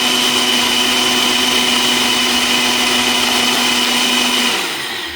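Blender whirring through homemade BBQ sauce, a loud, steady motor whine with a sustained hum that holds for over four seconds, then cuts off and winds down.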